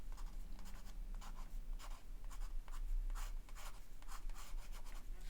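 An ink pen with a small nib scratches across paper during detailed drawing, close up, giving soft, irregular strokes with brief pauses and no voices.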